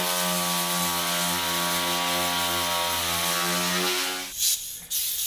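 An air grinder with a flap wheel shaves down a car's gas tank door, giving a loud, steady, high-pitched whine that cuts off near the end, followed by a brief clatter.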